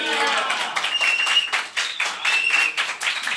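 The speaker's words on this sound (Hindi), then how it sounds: "जरा एक बार चिल्ला के ताली और स्तुति कर दीजिए" A classroom of students claps and shouts in praise, with bursts of applause and cheering rising and falling in quick waves and voices calling out over the clapping.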